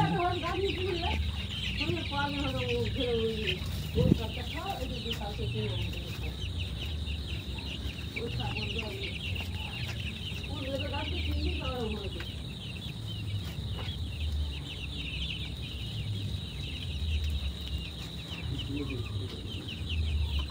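Chickens recently recovered from illness clucking close by at night, repeated short clucks and calls over a steady background hum, with some faint voices.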